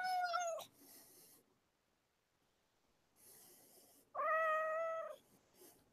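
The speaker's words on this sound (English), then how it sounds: "I hear a cat." A cat meows twice, a short cry at the start and a longer, louder one a few seconds later, with quiet room noise in between.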